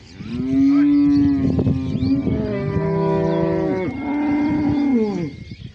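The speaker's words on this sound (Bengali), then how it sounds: "কত চমৎকার চমৎকার গাভী" A herd of dairy cows at a cattle grazing camp moo in long, drawn-out bellows, several overlapping calls close by with no talking, loud and sustained across the whole stretch.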